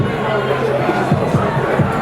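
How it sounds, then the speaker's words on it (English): A home crowd at a boxing arena reacts after a round of Khalid Shakur against Benny Tamaela, a dense roar and babble of many voices filling the space under a close commentator's talk. "Benny riles up the crowd"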